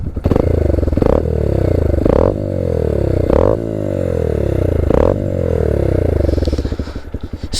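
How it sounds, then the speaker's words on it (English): A 2022/23 Honda Grom with an aftermarket exhaust revs loudly up close, five sharp throttle blips each falling back to a popping, crackling idle. "Tail tidy, exhaust sounds really nice. Give it a few revs for you guys."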